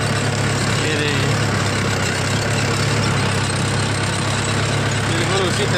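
A Mahindra tractor engine running steadily at about 1200 to 1300 RPM while ploughing a field with a disc plough, a loud, constant close-up drone that continues throughout with no letup.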